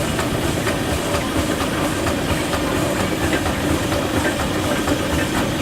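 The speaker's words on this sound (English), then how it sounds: "Now we have a Marshall traction engine." A Marshall steam traction engine runs steadily at a steam rally with a rhythmic chuffing and mechanical clatter, continuous and fairly loud, with no voices.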